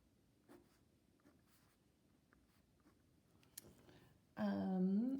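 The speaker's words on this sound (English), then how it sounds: "I'm also going to go ahead and write this term first since it's now positive." Pen or marker scratching out an equation on a board, faint soft strokes through the first four seconds before a loud voice comes in at the end.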